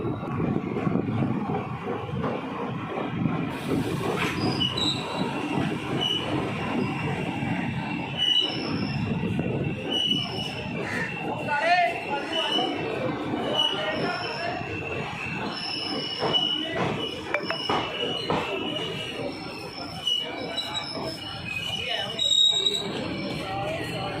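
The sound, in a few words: Ambala Sri Ganganagar Intercity Express train running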